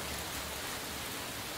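Steady rain pours in Cyberpunk 2077, a dense, even hiss of drops on surfaces filling the short stretch without pause.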